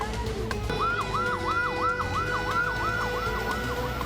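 A fire engine siren in Medan, Indonesia, heading to a building fire, wails in a fast, repeating rise-and-fall cycle, steady and moderately loud over a low traffic rumble.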